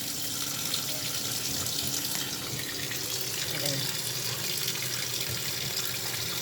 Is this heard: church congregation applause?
no